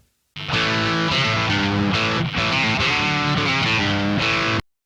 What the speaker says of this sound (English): more will give you a thick, crunchy sound